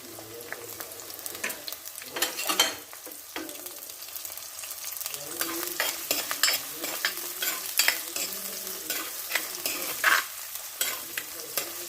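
Garlic and ginger sizzle in a pan as the base for a Kollam-style fish curry, a soft continuous fry under uneven stirring scrapes and clinks, with no voices.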